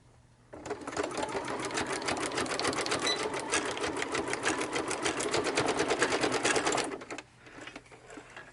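A sewing machine stitches a zigzag onto a paper journal card, a rapid, even mechanical chatter that starts abruptly, runs steadily for about six seconds close up, then stops, leaving faint room noise.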